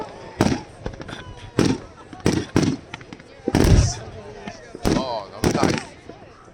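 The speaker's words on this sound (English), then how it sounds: "Somebody shooting some serious fireworks." Large fireworks bursting at Vestlia Resort, with a handful of loud, sharp booming explosions spaced irregularly across the scene, some with crackling tails, while people talk and exclaim nearby.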